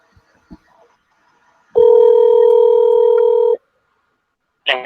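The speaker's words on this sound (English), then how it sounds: "There you go, it's ringing." A single steady telephone ringback tone sounds during an outgoing call for about two seconds, loud and alone after quiet faint clicks, followed by the start of a voice answering.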